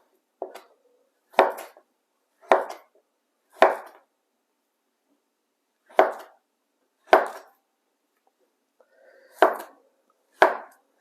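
A kitchen knife cuts through peeled plantain on a board in eight crisp, separate chops spaced about a second apart, close and clear against silence.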